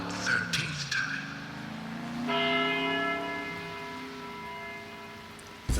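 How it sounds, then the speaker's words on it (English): A church bell tolls in the Deadly Premonition video game, a sustained ringing tone that swells in and hangs for several seconds over a faint background with a brief higher sound before it. "After the 12th time, the bell did not stop ringing."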